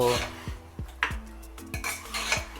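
A spoon scrapes and clinks against a metal pan as mutton is stirred with ground onion-garlic masala in the tempering, giving about seven sharp, rhythmic knocks close by with a faint sizzle underneath.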